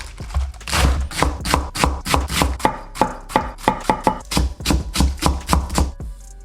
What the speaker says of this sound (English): Also slice some of the lettuce.